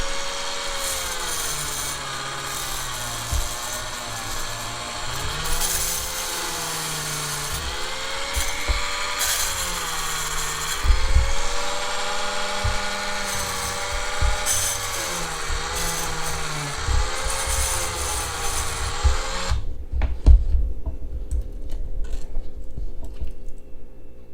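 Power sanding with 8000 grit sandpaper during a Ford Galaxie restoration, a steady whirring, rubbing drone with wavering pitch that runs loud and continuous for about twenty seconds, then cuts off abruptly into near quiet.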